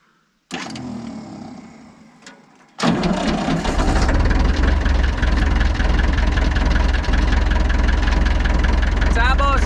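An engine with a suspected bad solenoid is jump-started with a screwdriver. A sharp click and a fading whir come first, then the engine cranks and catches into a loud, steady idle that holds to the end.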